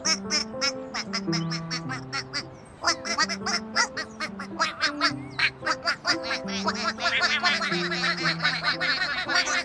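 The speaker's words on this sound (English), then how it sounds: "Big Blue made sure that all 12 ducklings found the pond." Cartoon ducklings in a kindergarten addition game quack steadily in a busy, cheerful string of short calls over a game-music backdrop, loud and close throughout.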